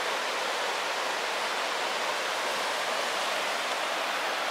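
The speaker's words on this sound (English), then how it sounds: "it's just the power of rushing water" A steady, loud broadband rush of floodwater over ATV trails, continuous and unbroken, with no voices.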